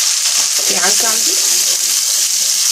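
Onions sizzle steadily in a hot pan after ginger and garlic go in, a constant loud frying hiss with a brief voice-like murmur near the start.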